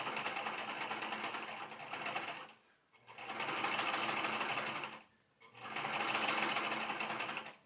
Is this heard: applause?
no